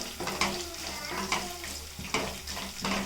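Curry leaves are dropped into hot oil for tempering alongside fried potatoes, giving a close, steady sizzle and crackle with repeated scraping strokes of a stirring utensil against the pan.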